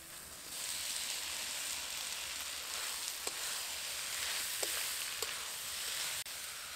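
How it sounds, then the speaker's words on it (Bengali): Boiled, drained taro stolons go into a pan of sizzling masala, giving a steady loud frying hiss with a few faint clicks of a spoon against the pan, and no voices. "এবার এর মধ্যে সেদ্ধ করে জল ঝরিয়ে রাখার লতিগুলো দিয়ে দেব।"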